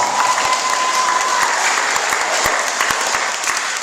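A school assembly audience applauds for Peyton, a loud, dense, continuous roar of clapping with a few distinct nearby claps standing out, sustained evenly throughout.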